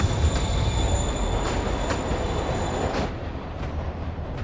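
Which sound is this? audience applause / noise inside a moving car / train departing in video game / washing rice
train departing in video game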